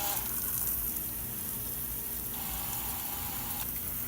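Water spraying out of a leaking fitting on a water well pressure switch, a loud, close, continuous hiss with a gushing, sizzling texture that holds steady throughout.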